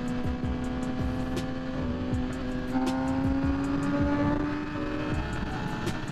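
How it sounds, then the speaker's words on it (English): Motorcycle riding on a road in Orange County while passing a small car, a steady engine drone with rising pitch as it speeds up, heard continuously at moderate level. "I'm gonna pass this little car though."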